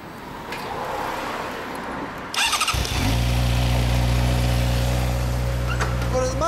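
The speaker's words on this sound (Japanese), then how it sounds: "ごめん、エンジン音聞かせてくれる？" Honda CB600F Hornet 600cc motorcycle with a stock muffler starts up after a quiet moment of background street noise, then settles into a loud, steady, close idle with a deep rumbling throb.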